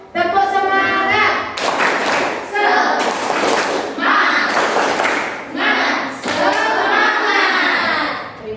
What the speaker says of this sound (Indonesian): Bagaimanakah kita lakukan tepuk semangat?